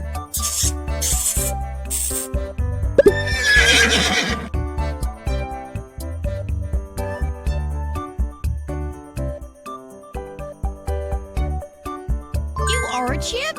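A horse whinnies once, loud and close, for a moment near the start over bright, steady children's music with jingling tones, in a kindergarten animal-matching game.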